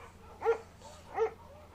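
A shepherd dog in the video game Firewatch gives two separate, moderately loud barks about 0.7 seconds apart, each short and slightly whiny, over a quiet low background.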